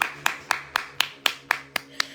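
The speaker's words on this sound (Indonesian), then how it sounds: "Tepuk tangan Kak Agus sih" Nine evenly spaced hand claps at a steady beat, close and crisp, from a comedy show audience, with no talk over them.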